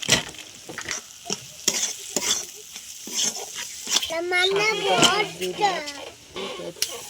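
A spice mix of ginger, turmeric and red chilli powder, with a splash of water, sizzles in a pan for cauliflower khichuri. A spoon stirs it with repeated sharp scraping knocks, and a voice rises briefly in the background.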